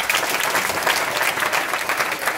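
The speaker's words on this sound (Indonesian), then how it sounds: "Beri aplaus dulu buat anak sekolah." An audience claps for school students at a talk, a dense, steady burst of applause from a crowd that holds evenly for a couple of seconds without speech over it.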